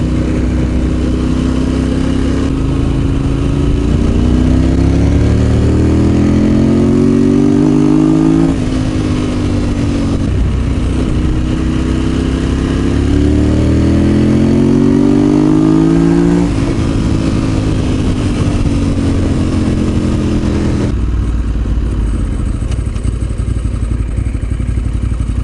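A motorcycle engine revving up as the throttle opens, loud and close, with rising pitch sweeps repeated in cycles over a steady mechanical rumble.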